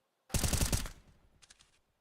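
Video game gunfire in an esports academy league match: a dense, rapid burst of automatic shots lasting about half a second, followed by a few fainter, scattered shots that trail off.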